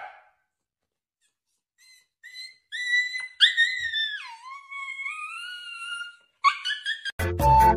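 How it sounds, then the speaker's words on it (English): A sleeping dog makes soft whimpering, whistly yelps and muffled woofs, rising and wavering in pitch, with quiet pauses between bursts, close by. "Barking when he's asleep."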